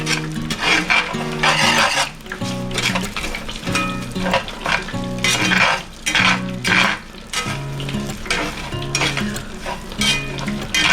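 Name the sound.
stirring parboiled rice into a pot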